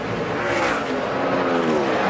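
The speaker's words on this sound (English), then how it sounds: "Jimmie Johnson sideways as he went to the gas hard" NASCAR stock cars roar hard under full throttle at Atlanta Motor Speedway, a loud, dense engine howl with rising and shifting pitch as the cars accelerate, close and continuous, with no voices.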